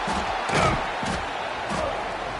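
Stadium crowd roar in EA College Football 26 after a scoring drive, a steady wash of cheering with a couple of louder swells, fairly close and filling the space, with no speech.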